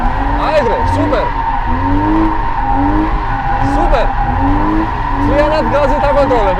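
A car drifts, its tires squealing in long wavering skids over a steady engine drone, with repeated squeals rising and falling throughout, loud and close.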